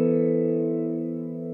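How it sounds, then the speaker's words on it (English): Sustained guitar chord run through an H910 subtle widener preset for a chorus effect, a single steady wide shimmering tone that slowly fades, loud and alone. "So I'm using the subtle widener preset on the H910."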